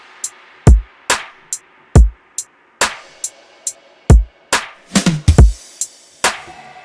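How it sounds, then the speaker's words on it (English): Electronic bass-music drum loop of a punchy kick, two layered snares and crisp hi-hats, sparse hits landing in a syncopated pattern, loud and dry with no voices. "So kick, 2 snares layered,"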